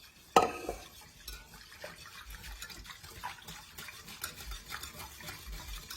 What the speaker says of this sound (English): So we're going to whisk these together.